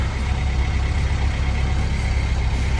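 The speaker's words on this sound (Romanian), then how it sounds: "Bă, motorul merge destul de bine." A used SUV with about 200,000 km and a weak battery idles steadily just after starting, its engine giving a constant, close, even rumble with no revving.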